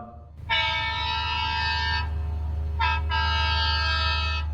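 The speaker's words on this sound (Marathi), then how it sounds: "तेव्हाच अचानक ट्रेनच्या हॉर्नचा आवाज ऐकू आला" A train horn sounds as a loud sustained blast, briefly breaking off and then resuming, over a steady low rumble.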